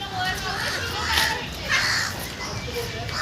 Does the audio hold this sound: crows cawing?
yes